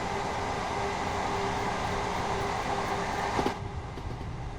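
An EWS Class 66 freight train rumbles past in a train simulator on the East Coastway, a steady, loud, continuous rolling roar with a faint tonal line that cuts off sharply near the end.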